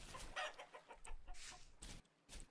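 A chicken in the game Vintage Story clucks in a quick run of short, close, fairly quiet bursts with brief gaps, heard alone without speech.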